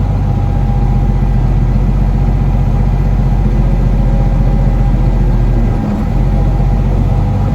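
A tractor engine runs loud and steady while operating a hay rake, a continuous low rumble with little change in throttle across the stretch.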